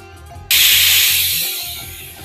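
A pressure cooker with mushroom masala curry lets out one sudden loud hissing whistle of escaping steam that starts abruptly and holds steady, slowly fading over about two seconds, close by with no talk.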